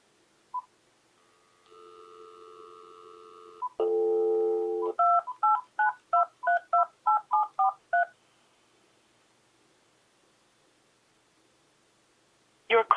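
Telephone dialing a call: a brief tone, a steady dial tone, then a string of about ten short crisp keypad beeps in quick even rhythm, quiet and close, with silence afterward.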